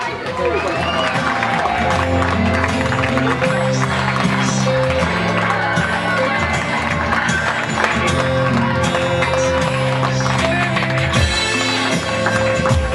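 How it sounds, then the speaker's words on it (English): Applause and cheering from a crowd at a junior sports presentation night for an under-13 team, a steady loud wash of clapping and shouts lasting the whole stretch with music running underneath. "He needs a special round of applause, I think."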